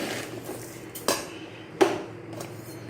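A roasted rice mixture for chakli is scooped from one pot into another, with two sharp metal clinks of utensil on vessel over a soft background hiss.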